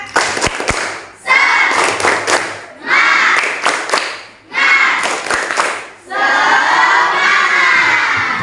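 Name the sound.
children doing a 'tepuk semangat' clapping chant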